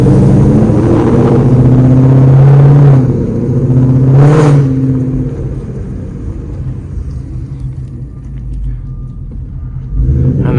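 A straight-piped Ford Mustang's exhaust roars loudly and close, revving with rising and falling pitch through downshifts, then settling to a deep rumble before surging again.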